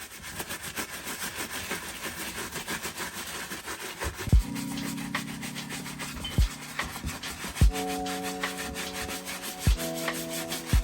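A cleaning brush with solution scrubs a suede Air Jordan 1 Low sneaker in close, steady rubbing strokes, while a few sharp knocks and a sustained tonal hum come in from the midpoint.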